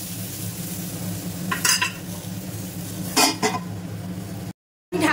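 Vegetables and eggplant fry in a covered pan, a low steady sizzle broken by a few short clatters of a utensil against the pan, ending in a brief silence.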